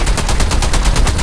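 EM2 rifle fire in the video game Call of Duty Mobile, a loud, rapid burst of evenly spaced automatic shots rattling continuously for just over a second.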